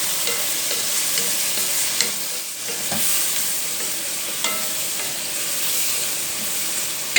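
Tomatoes sizzle and fry in a pan for ridge gourd curry, a steady close crackle with occasional stirring scrapes and no voices.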